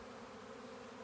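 A swarming honey bee colony produces a dense, steady buzz of many wings, close and continuous with no pauses and no voices.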